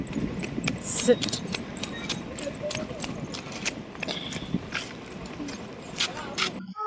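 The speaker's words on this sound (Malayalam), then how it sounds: "ഇത് നമ്മുടെ കുതിര" Horse hooves clip-clop in irregular sharp clacks on hard ground, mixed with faint jangling and a brief spoken word amid outdoor ambience at Azhikkal beach.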